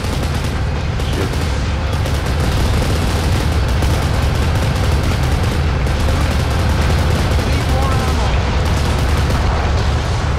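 Dense, continuous gunfire and booming explosions from a Kane and Lynch video game battle, a loud, relentless barrage of shots with voices faintly mixed underneath.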